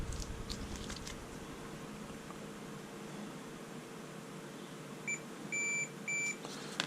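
A multimeter beeps during a continuity test on a switch from a 1967 Mercury 650 outboard's controls, giving three short high tones near the end over quiet background hiss, with no talking.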